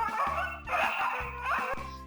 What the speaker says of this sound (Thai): เสียงสุนัขกัดกันซะงั้นนะครับผม